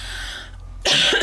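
A single short, sharp cough bursts out near the end after a moment of near silence.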